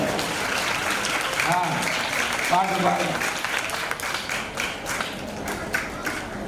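A church congregation at a gathering claps in a dense, steady wave of applause with a preacher's voice speaking over it, the clapping staying strong before thinning slightly toward the end.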